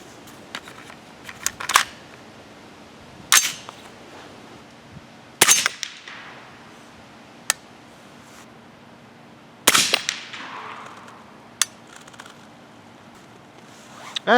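A 300 Blackout rifle firing handloaded 208-grain Hornady BTHP rounds, heard as several sharp, separate cracks spaced a few seconds apart, interleaved with smaller metallic clicks, close and loud against a quiet background.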